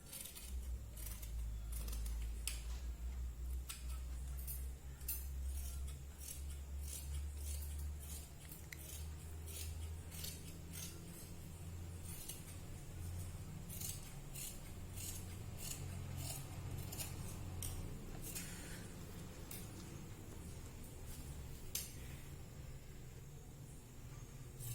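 Scissors snipping through saree fabric while cutting a child's dress, with a long run of quick, crisp snips repeating steadily over a low, constant background hum.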